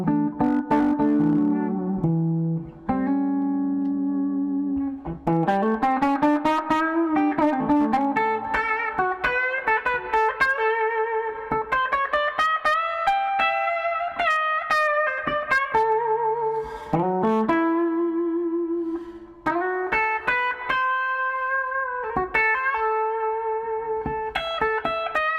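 An electric guitar rings out through a 1960s Pro Reverb amplifier, playing a continuous melodic line of sustained, chiming notes with reverb tails and brief pauses between phrases, loud and close.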